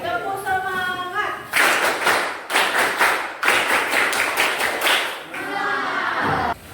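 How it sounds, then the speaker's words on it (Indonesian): A group of people performs a 'tepuk semangat' spirit clap routine in a classroom, several loud bursts of rhythmic clapping separated by short pauses, with voices chanting and talking between rounds. "Oke, sekali lagi. Tepuk semangat."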